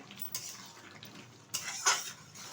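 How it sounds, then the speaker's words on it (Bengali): A metal lid lifted from a pot of simmering goat meat, heard as a few close clinks and scrapes of metal against metal amid a faint background hiss, with one sharper clank near the end. "30 মিনিট বাদে ঢাকনাটা তুলে দিচ্ছি।"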